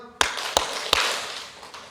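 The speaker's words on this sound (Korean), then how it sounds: "박수 3번" A church audience at a Bible lecture claps three times in unison, three sharp evenly spaced claps close together, then a faint lingering room tail.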